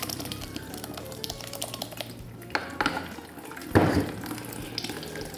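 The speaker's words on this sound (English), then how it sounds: "with a sieve, you're going to strain the water off" Water drains off blended paper pulp through a kitchen sieve, a steady close trickling and splashing with a few louder sloshes partway through.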